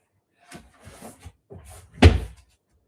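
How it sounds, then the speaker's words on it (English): An indoor door closes with a firm thud at the end, after a few soft handling sounds and faint rustles in a home while laundry is being folded. "I just closed the door"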